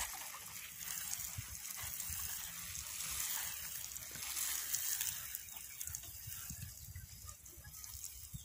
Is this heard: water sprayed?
yes